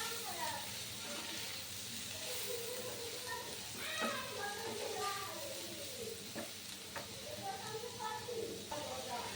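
Papaya bhaji sizzles and fries in a pan as it is stirred, a soft steady hiss with light scraping clatter, faint and close.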